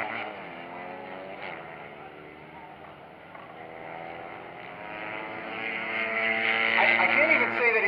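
Mini GP race motorcycles scream past the start-finish line at a sprint race, engines whining at high revs and rising in pitch and loudness as they close in, with a commentator talking over them.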